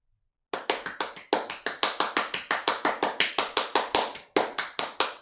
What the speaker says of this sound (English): I just heard your hands clapping